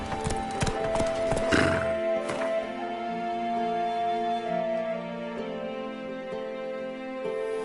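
Geralt's horse Roach in the video game The Witcher, hooves clip-clopping in a quick trot up close, a burst of hoofbeats at first and then steady footfalls under a sustained musical drone.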